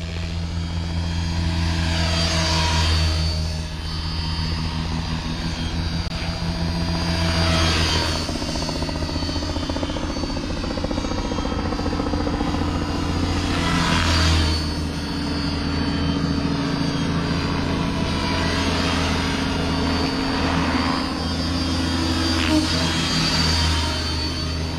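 A radio-controlled model helicopter with its engine cut lands in autorotation, giving a continuous whirring rotor drone with slow rhythmic swells, loud and steady throughout.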